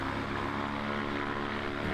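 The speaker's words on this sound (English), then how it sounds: "I can hear over on my left-hand side the first engines being started." A paramotor engine runs loud and continuous at a World Paramotor Slalom Championships training day, a steady droning roar with no break and no voices.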